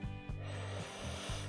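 Repeated nasal sniffs draw on a Fresh Care aromatherapy inhaler held to the nose, with about four quick, close breaths at an even rhythm and no speech.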